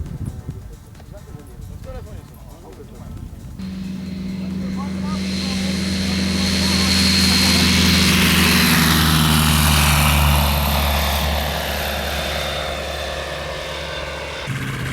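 After a few seconds of background noise, a small model aircraft engine starts and builds into a loud, high, steady whine close by, then eases slightly near the end.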